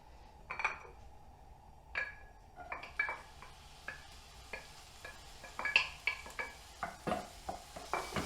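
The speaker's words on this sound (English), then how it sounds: "first we're going to fry off the onions" Onions frying in oil in a hot pan for a cottage pie, a soft sizzle under repeated sharp clinks and scrapes of a utensil stirring against the pan, irregular and close.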